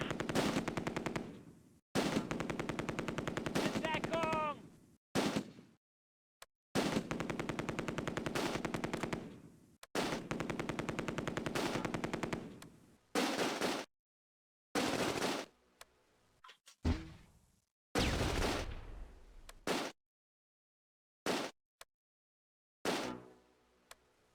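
Repeated machine gun bursts from a .30 caliber and a heavy machine gun in the WWII strategy game Close Combat: A Bridge Too Far, at the Nijmegen river crossing. The bursts are loud, long and rapid, then shorten into clipped volleys separated by silences.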